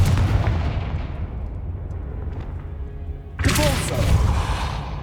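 Confringo fire spell bursts in Hogwarts Legacy, a loud booming explosion that rumbles and decays, followed by a second sharp blast near the end, all over a dense game soundscape.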